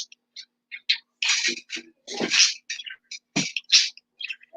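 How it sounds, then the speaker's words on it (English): Quail in an outdoor brooder give a rapid series of short, bright chirps and whistles, close and fairly loud, with brief gaps between bursts. "Those are quail."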